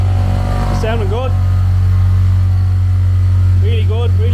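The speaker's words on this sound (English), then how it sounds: "Started the car, pumping up the wheels." Honda Civic EG with a swapped-in K20 engine idling steadily, a low constant hum throughout, with someone talking over it.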